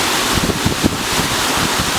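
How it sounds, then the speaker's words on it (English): Cold southerly wind sweeps across Barry Falls near El Dorado after days of rain, a steady, loud broadband rush with gusty buffeting on the microphone and no talking. "Now the wind has swung around and it's blowing up from the south, and it is like ice."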